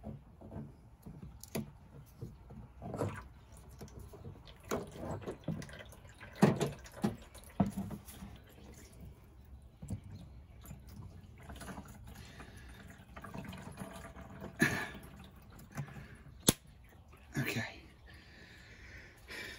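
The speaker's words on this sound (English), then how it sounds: "when we remove this, all the fluid is going to want to escape" Washer fluid drains from a removed tank hose in a Mazda Miata engine bay, faint intermittent dripping and trickling under someone talking.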